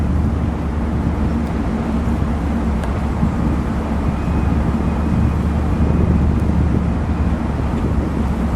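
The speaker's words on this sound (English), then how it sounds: "it's got a nice sound to it, doesn't it? Yes, it is. Just listen to that rumble." A red and black 1957 Ford Fairlane 500 Skyliner Retractable idles with a steady, low, even engine rumble, heard close and alone with no talking.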